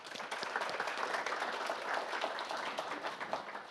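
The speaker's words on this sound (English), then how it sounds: "Let's give them another round of applause." A forum audience gives panelists a dense round of applause, steady overlapping clapping throughout at moderate volume with no voices over it.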